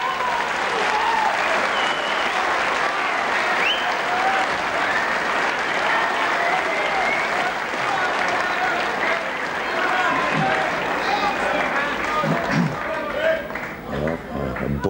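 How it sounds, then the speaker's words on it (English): A boisterous snooker crowd at the 1997 World Final applauds as Ken Doherty and Stephen Hendry return, sustained loud clapping filling the hall, with a few voices and cheers rising near the end. "A boisterous crowd."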